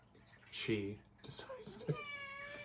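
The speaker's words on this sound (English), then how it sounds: "My cat won't leave me alone." A pet black cat meows nearby in a quiet room, giving two short cries about a second apart, the second stretched into a longer, wavering meow.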